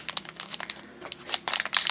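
Close, crisp crinkling and tearing of plastic wrap on a Shopkins toy lunchbox tear strip in short scattered bursts, fairly quiet, with a slightly longer rip near the end.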